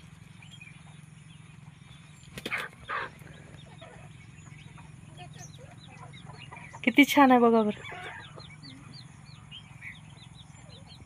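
A hen sitting on her eggs in a crate gives a few soft, scattered clucks against a quiet background, with one brief louder call and a person speaking nearby.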